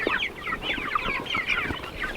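Meat chickens and turkeys cluck and chatter together at feeding time on a farm, a busy, continuous flock sound of overlapping calls at moderate distance.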